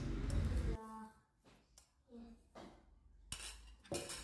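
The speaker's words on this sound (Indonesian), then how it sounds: "Kita aduk-aduk kembali sampai tercampur merata." A spoon clinks and scrapes against a bowl in several short stirring strokes, close by, with quiet gaps between them, mixing sugar into a sweet potato snack mixture.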